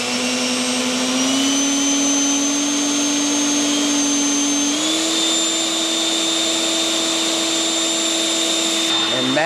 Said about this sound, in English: Next up, the Works blower.